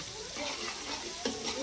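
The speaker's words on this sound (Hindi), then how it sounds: "हम ऐड कर देंगे अदरक लहसुन का पेस्ट, ये देखा, और इसे जो है अभी अच्छे तरीके से मिक्स कर लेंगे।" Ginger garlic paste stirred and frying in a pan, a steady soft sizzle with scraping stir strokes and a brief louder clack near the end, close and moderate in level.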